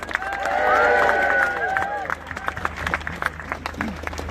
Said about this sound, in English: Could you please give a cheer for Hazel?